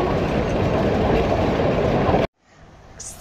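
The Kalka-Shimla toy train runs on the winding mountain railway with a steady, loud, broad rumble and rattle. The sound cuts off abruptly, then gives way to a faint, quieter hum.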